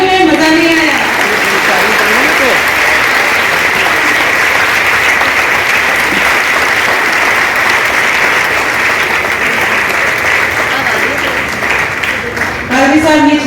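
A church congregation applauds at a Methodist church gift presentation: long, loud, steady clapping from many hands that holds for over ten seconds, easing slightly near the end as a voice starts to come in.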